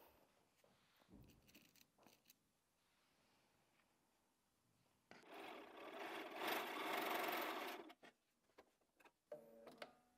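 A sewing machine stitches quilt patchwork pieces together for a Sawtooth Star block, running in one steady burst of a few seconds, with soft clicks and fabric handling before and after.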